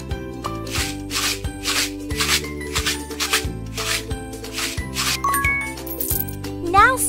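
Sprinkles are added to a cake for a baby shower in a baby care video game, giving off bright tinkling, coin-like jingles over looping bouncy game music with a steady bass line.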